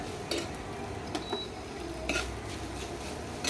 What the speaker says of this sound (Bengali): চাট মশলাটা ভালো করে দিয়ে নেড়ে চেড়ে নেবো